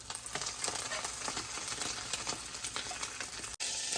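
An omelet frying in a pan with a dense, steady sizzle and crackle, close and even, cutting off briefly near the end.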